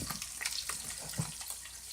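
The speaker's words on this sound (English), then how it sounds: "So the bacon's bubbling up." Bacon sizzling and bubbling in a frying pan, a steady crackling hiss with small pops, close and continuous.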